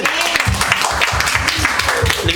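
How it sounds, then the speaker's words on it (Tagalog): A church congregation claps together during a worship service, loud and near, in a steady rhythmic beat with voices mixed in. "Palakpakan natin ang Panginoon."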